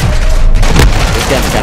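A single booming sniper rifle shot fired in the multiplayer shooter Modern Warfare II, a loud sharp report near the middle with a short rumbling tail under game noise.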